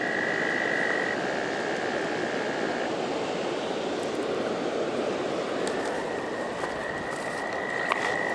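A dense chorus of frogs croaks continuously in the background, with a thin high tone drifting in and out and a faint tap near the end.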